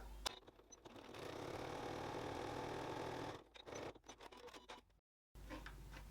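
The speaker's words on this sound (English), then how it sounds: "So I'll just stitch that across now." A sewing machine stitches a line across fabric, running in a fast steady whir for about three seconds, then stopping and starting in short bursts before a brief silence, close and moderately quiet.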